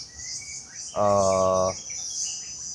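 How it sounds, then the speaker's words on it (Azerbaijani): Outdoors in nature, birds chirp against a steady hiss of insects, with one clear, buzzy harmonic call lasting under a second in the middle, moderately near. "Təbiətin səsini eşidirsiniz,"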